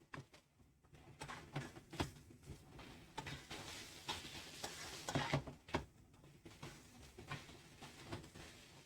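Spaghetti carbonara ingredients frying in a pan, a steady close sizzle broken by repeated stirring scrapes and clinks of a utensil against the pan.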